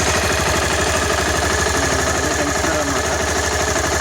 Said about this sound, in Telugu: ఎస్పెషల్లీ ఈ సీబియాస్కి ఈ టెన్షనర్ ప్రాబ్లం ఉండటం వల్ల అలా వస్తుంది